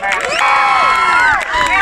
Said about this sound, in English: So I just want you to all give yourselves a round of applause.